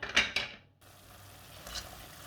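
A utensil stirs shrimp in tomato sauce in a pan with a couple of quick scraping strokes at first, followed by a brief pause and then a low, quiet simmering bubble and faint sizzle, close by with no talking.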